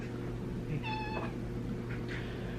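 A house cat gives one clear meow indoors, fairly close. A fainter second cry follows over a low steady household hum.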